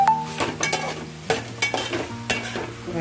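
Chopped tomato tossed into frying onions in a pan for chicken masala, stirred with close scraping strokes over a steady sizzle, with no talking.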